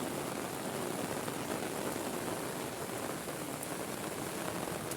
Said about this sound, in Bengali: বৃষ্টি বৃষ্টি বৃষ্টির পানি এত হচ্ছে আজকে কয়দিন হলে, আজকে বেশি কিন্তু।